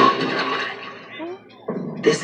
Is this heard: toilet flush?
yes